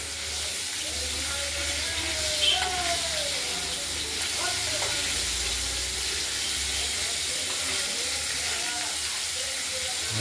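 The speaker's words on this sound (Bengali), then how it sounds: "প্রথমে 3টে মাছ ভেজে নিচ্ছি, পরে 3টে মাছ ভাজি।" Pieces of katla fish, cut and rubbed with salt and turmeric, frying in hot oil in a kadai, giving a steady broadband hiss and sizzle throughout with a few faint clinks.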